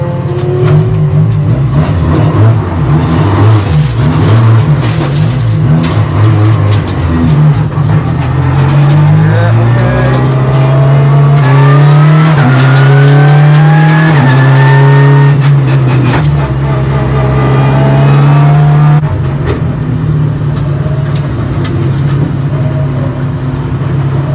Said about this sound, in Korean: 와 차들이 많이 오네